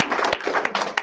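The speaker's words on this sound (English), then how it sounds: "let's give all of them an applause for doing this" A brief burst of clapping from an audience at a community talk-story gathering on Maui, dense and close, lasting only about a second.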